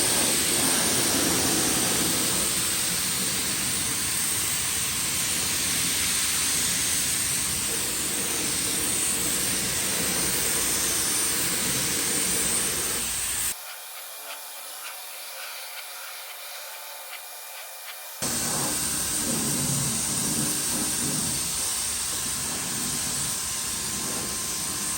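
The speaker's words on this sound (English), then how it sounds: "the paint needs time to come out of the sprayer" Steady, loud hiss of a paint sprayer laying primer onto a vintage faux bamboo dresser, running continuously, then briefly cutting to a quieter pause before the spray resumes.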